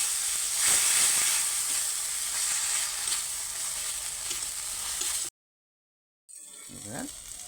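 Spice masala with green chillies and water sizzles and hisses loudly in a pan while being stirred, with a steady frying sound that cuts out briefly before resuming; a voice is faintly present.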